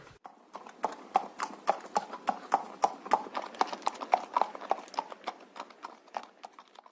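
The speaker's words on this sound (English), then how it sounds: "The sisters led their horses slowly and bravely into the black woods." Hooves of horses being led slowly clip-clop in a steady walking rhythm, moderately close and clear, with no talk over them.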